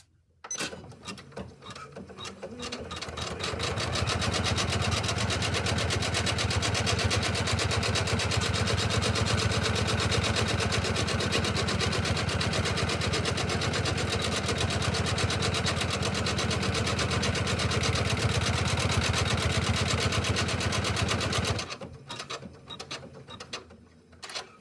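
An embroidery sewing machine runs a tack-down stitch, a loud, steady, rapid mechanical hum and needle chatter that starts after a brief lead-in, holds evenly for about twenty seconds, then stops abruptly.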